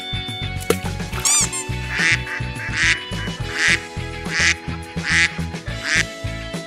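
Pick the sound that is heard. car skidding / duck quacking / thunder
duck quacking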